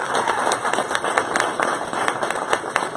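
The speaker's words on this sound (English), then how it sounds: "Can we all just give a round of applause for Google?" Audience at a talk on opportunities for student designers bursts into applause, a dense steady patter of many hands clapping close by for a few seconds.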